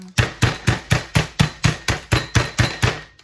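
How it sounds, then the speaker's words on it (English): Chicken breast pounded flat under parchment paper, about a dozen loud, evenly spaced thuds in a steady rhythm, close and unaccompanied by voices. "we just hit it to flatten it out"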